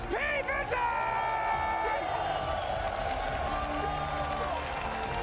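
An esports arena crowd at the Dota 2 grand finals of the Esports World Cup cheers and whoops loudly, a dense continuous roar with shouts rising at the start and sustained throughout.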